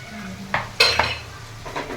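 Radish curry stirred in a pan after salt and turmeric go in, a few quick metallic scrapes and clinks of a spoon over a low steady sizzle, close and without talk.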